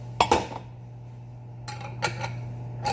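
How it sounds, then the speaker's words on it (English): Residual water is flicked out of an empty glass yogurt jar, giving a few quick close clinks and splashy knocks over a steady background hum. "you can just kind of flick it out like that"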